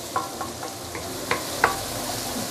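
Assam fish paste sautéing over medium-low heat for Muar patong assam fish, a soft steady sizzle with a few light scraping and stirring clicks, close and alone.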